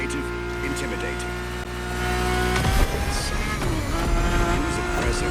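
A Ferrari engine heard from the cockpit in The Crew Motorfest, a steady loud droning hum with harmonic tones that swells in a rev around the midpoint and holds at a higher pitch, with a brief voice over it.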